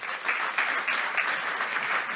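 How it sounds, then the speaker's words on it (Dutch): A lecture audience at a Studium Generale talk on broad welfare, nature, ecology and polarization claps after the lecture. The applause is dense, steady and fairly close, filling the whole moment with no voices over it. "En inderdaad, applaus zeer verdiend."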